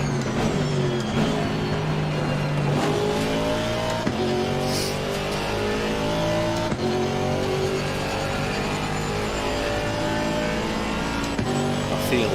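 A GT4 race car engine at Monza in a racing video game, droning steadily at high revs with repeated upshifts and pitch sweeps, continuous and fairly loud throughout, with no talk.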